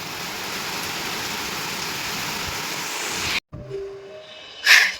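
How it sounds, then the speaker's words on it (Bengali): Heavy rain pours down in a steady, loud broadband hiss for several seconds, then cuts off abruptly, leaving a quieter background with a short bright burst near the end. "শুনতে পাচ্ছ কিরকম মশালধারে বৃষ্টি শুরু হয়েছে।"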